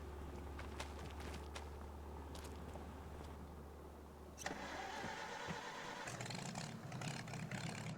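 An old used tractor engine cranks over a low steady hum, then catches and fires up midway, settling into a louder, rough mechanical idle up close.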